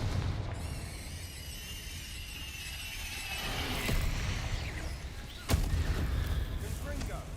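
In Hogwarts Legacy, a Confringo blasting spell bursts with a booming impact, preceded by a rising shimmering whoosh and followed by a sharp crack near the end, with a player speaking over the game.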